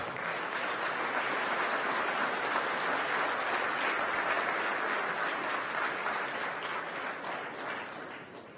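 Sustained audience applause at a Quebec football league awards ceremony, dense steady clapping from a large crowd filling the room, holding loud throughout and easing slightly at the end.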